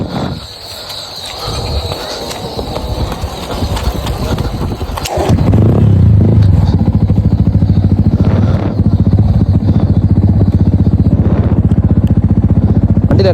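A motorcycle is push-started and the engine fails to catch; scraping and rolling clatter give way to a loud, steady mechanical drone, up close.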